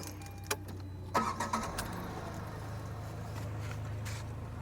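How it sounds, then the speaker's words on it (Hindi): A used car's engine is cranked and catches, with a few sharp starter bursts followed by a steady low idle in the close foreground, preceded by a faint click. "मैं गाड़ी को स्टार्ट कर लेता हूँ भाई।"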